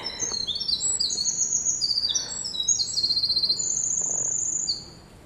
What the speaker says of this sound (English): The birds are out singing today.